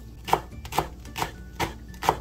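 A knife chops pumpkin leaf stems on a cutting board in five sharp, evenly spaced strokes, close and crisp.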